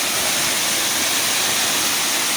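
A steady, full roar of falling water, close and constant, with no voices or other sounds breaking through.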